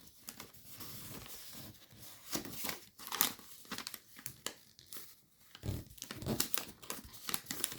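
Paper crinkles and creases as an origami fighter jet is folded, with irregular crisp rustles and sharper crackling bursts, close and fairly quiet, no talk.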